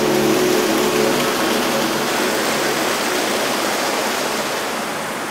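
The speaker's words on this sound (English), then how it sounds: "That's the sound of fresh water." Steady rushing fresh-water mountain stream fills the clip on a Longs Peak ascent, a broad constant roar like a nearby stream or small waterfall, fading slightly toward the end with no voices.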